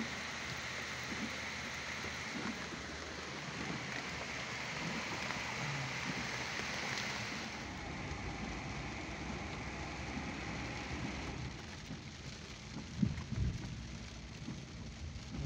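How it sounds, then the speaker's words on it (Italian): Heavy rain pours steadily onto a street in Sanremo, a dense, even hiss of water with splashing, holding constant throughout and easing slightly toward the end with a brief louder thump. "Mamma mia, che botta di pioggia."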